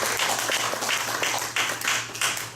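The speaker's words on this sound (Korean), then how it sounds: "회장 후보님들께 뜨거운 박수를 부탁드립니다." Audience applause at a Korean dental association presidential candidates' debate, a steady wash of many hands clapping continuously, filling the room at moderate loudness.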